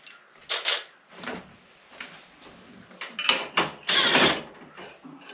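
A ratchet works loose Torx T45 bolts in a shed, producing several short, close bursts of ratcheting clicks separated by pauses, the last few louder and longer.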